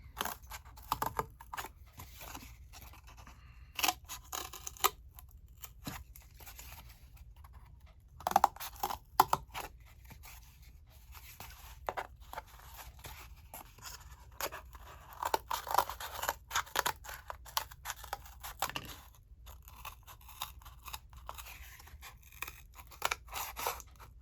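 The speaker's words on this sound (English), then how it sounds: "Then we're going to go ahead and cut out our circle." Scissors snip out a paper circle about three inches across, with quiet, irregular cuts and crunches spread over a near-silent room.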